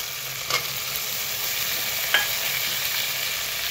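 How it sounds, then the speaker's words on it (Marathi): Mushrooms sizzling steadily in a pan with softened tomato for a pulao, with a couple of stirring scrapes over the constant close frying hiss, no talking. "आपण आता ह्याच्यात मशरूम टाकूया"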